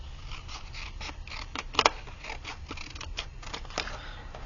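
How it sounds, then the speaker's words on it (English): Scissors snipping a small paper picture out of a printed page for a glue book page, a few close, quiet cuts with a brief louder snip cluster midway, no talking. "So in this case, I will cut this smaller version out."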